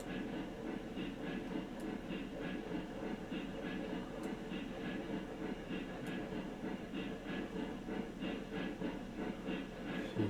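A steam locomotive in the Railroads Online game works through a tight S curve at low speed: a steady rumbling roll with faint rhythmic wheel clatter and occasional light metallic ticks, continuous and unvoiced.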